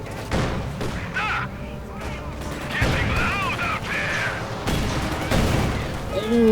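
Tanks and gunfire in a WWII strategy game: scattered bursts of shots and heavy booms go off at irregular intervals, with a commentator talking over the battle.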